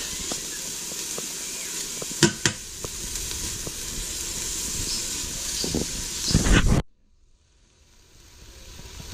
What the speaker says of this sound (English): Okay, we're still sauteing a few more minutes here.